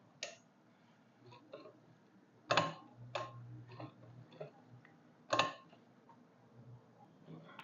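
A sewing machine runs slowly in short bursts, stitching elastic onto the waistband of straight-cut trousers, with soft mechanical ticking and clacking and a few louder thumps; close up, no speech.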